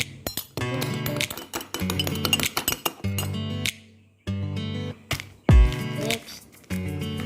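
A spoon clinks repeatedly against a mug while an Oreo mug cake is made, with bright rapid ringing taps in bursts separated by brief pauses and a dull knock partway through.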